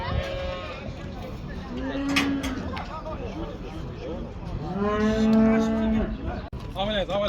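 Cattle low again and again at a Kyzylorda livestock market selling heifers, calves, bulls and cows, with long drawn-out moos rising over a steady crowd murmur and nearby voices.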